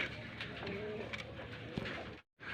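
Pigeons cooing at a Bangladeshi pigeon farm, a few soft throaty coos over a dense background of birds, close by, with a brief drop to silence near the end.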